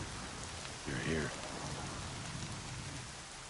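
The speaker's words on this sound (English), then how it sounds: "Rain's not so bad." In the video game Horizon Zero Dawn, rain falls in a soft, even hiss throughout, with a short voice-like murmur rising briefly near the start before fading back into the downpour.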